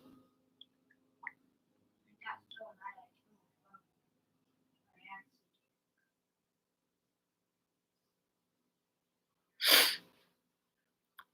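One short, sharp sneeze rings out near the end after a stretch of quiet, preceded by faint scattered mouth sounds and soft clicks.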